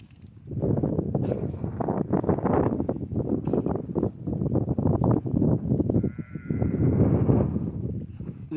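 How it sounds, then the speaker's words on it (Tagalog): Sheep kept in pens on a farm in the middle of a desert bleat repeatedly and close by, overlapping one another, with wind buffeting the microphone throughout. "Ay naman ang tupa ito."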